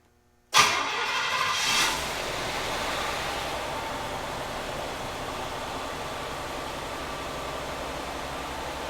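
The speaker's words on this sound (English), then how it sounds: "Let's see if she actually starts and runs." Lawrence Welk's Cadillac cranks briefly and fires, a loud starter catch followed by a surge, then the engine settles into a steady, even idle that holds for the rest of the clip.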